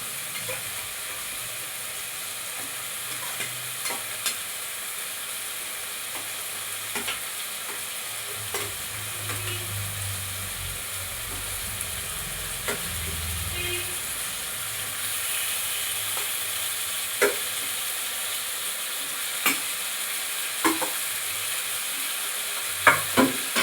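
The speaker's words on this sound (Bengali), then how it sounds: "এবার মশলার সাথে ভালোভাবে কষিয়ে নিচ্ছি ঝিঙে পটল আলুটাকে।" Ridge gourd, pointed gourd and potato sautéed with spices in a pan for a rohu fish curry, a continuous close sizzle broken by repeated scraping and clinking stirs of the spatula.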